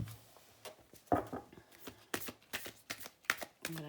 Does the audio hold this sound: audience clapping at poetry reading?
no